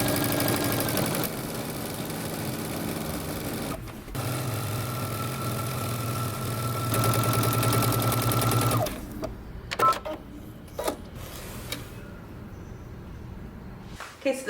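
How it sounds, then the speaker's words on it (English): Sewing machine running a row of stay stitching on a jeans facing, a steady mechanical whir that carries for about nine seconds, pauses briefly midway, and changes pitch partway through, then gives way to a few quieter clicks and handling sounds. "I'm going to have you do a row of stay stitching on your facing 5/8 of an inch away from the edge"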